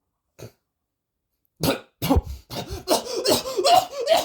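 A single short cough, then a burst of harsh coughing and throat-clearing, followed by continuous rough, sputtering vocal noise close up.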